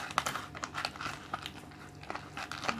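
A plastic packet of 7-Eleven kimchi fried rice is kneaded and squeezed by hand, giving continuous close crinkling and crumpling with soft irregular crunches and no voices.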